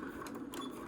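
A sewing machine back-stitches through fabric while paper piecing, a steady close mechanical whir with no pauses over a short moment.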